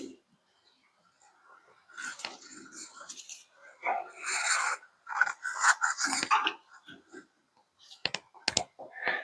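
A nut is tightened by hand onto a 10K axle hub assembly with quiet, scattered metallic clicks and rasping scrapes. The sounds come in short bursts, separated by near-silent gaps.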